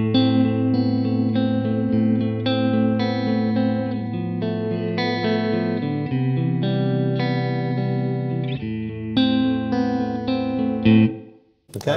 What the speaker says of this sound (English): you'll have your reverb, and then I'll just swell in the modulation.